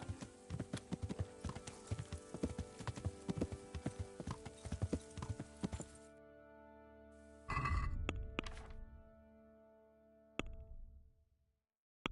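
Horse hooves in a video game clip-clop in a steady rhythm over a musical background, followed by a few louder thuds and movement sounds.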